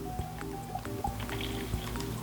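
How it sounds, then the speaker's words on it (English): In a cozy video game played on a Nintendo Switch Lite, something is filled with water: soft drips and squishy liquid splashes over a quiet, steady background of game music. "fill it up with some water"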